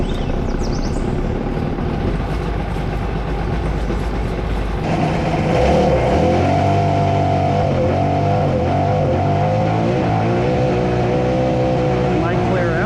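A 1996 Sea-Doo XP800 personal watercraft engine runs loud and close, a rough steady drone that rises midway into a higher revving note that wavers in pitch, with voices speaking at times over it.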